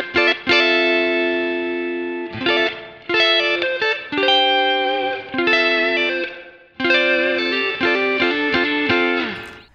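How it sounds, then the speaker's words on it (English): Clean electric guitar chords ring out through a reverb effect for an 80s-style tone, several strummed phrases with long shimmering tails and brief gaps between them, loud and alone with no talking. "I'm gonna turn off the rest of the effects so you can kind of hear the reverb."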